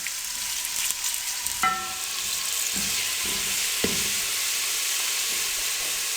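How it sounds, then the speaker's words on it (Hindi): Onions frying in a pan for karri pakora, cooked to a light brown, give a steady close sizzle and hiss throughout, with a few soft stirring scrapes and clinks over the top. "बिल्कुल हल्का सा ब्राउन करना है, ज़्यादा जलने नहीं देना प्याजों को।"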